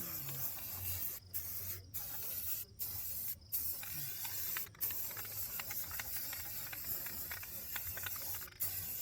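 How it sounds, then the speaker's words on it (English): Red aerosol paint sprayed onto LS1 brake calipers fitted to a 1987 Trans Am, a loud close hiss in long steady bursts broken by several short pauses, no talking. "Go ahead and give these a nice coat of red paint."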